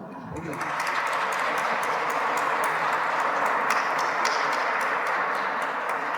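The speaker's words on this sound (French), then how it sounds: "Je pense qu'on peut l'applaudir." A church congregation applauds during an Ash Wednesday Mass, a dense, sustained wash of clapping from many hands that swells up quickly and carries on steadily, heard in a reverberant space.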